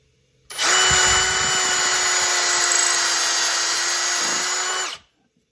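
A power drill bores into wood through a metal-pipe drill guide on a farmhouse dining table build, a single sustained high whine close up lasting about four seconds, starting and stopping sharply.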